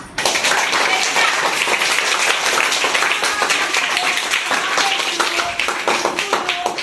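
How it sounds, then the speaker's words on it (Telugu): A group claps steadily and loudly for several seconds at an Independence Day celebration, a dense patter of many hands, with a few voices mixed in. "శంకర్ అన్నకి క్లాప్."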